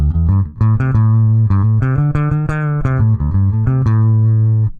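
Electric guitar picked through an Audiofab Frequency Distiller with its high-pass filter pulled down, playing a quick run of clear melodic notes with audible pick attacks, loud and close with no talking.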